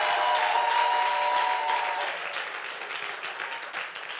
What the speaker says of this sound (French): Est-ce que tu peux acclamer Jésus ce matin?